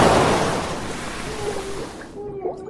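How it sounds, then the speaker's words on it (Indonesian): Roaring ocean waves wash in a loud, broad rush that slowly fades, with a faint voice or tonal sound underneath toward the end. "Dari dalam peti, suara gemuruh ombak tak berhenti"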